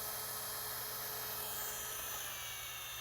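A variable speed drill whirs steadily at medium speed, mixing decorative quartz flooring material in a bucket, a continuous, even, fairly faint hum with no talk.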